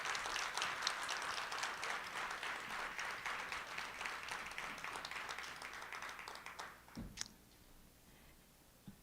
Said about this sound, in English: Can we please have one more round of applause for the Morelli Quintet?